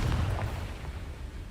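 A Confringo spell explosion from the Hogwarts Legacy video game: a loud, booming low-end blast at the start that rolls into a sustained rumbling crackle, fading only slightly over a second and a half.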